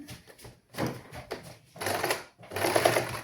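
A sewing machine stitches the one-inch folded hem of a pleated frock in black thread, running in three or four short bursts of rapid mechanical whirring separated by brief pauses, close and fairly loud.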